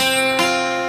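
A beginner strums a first attempt at an F barre chord on guitar, a single buzzy, muddy strum at mid-clip with ringing strings, close and moderately loud, no talk.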